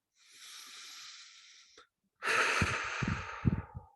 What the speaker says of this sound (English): start by taking a couple deep breaths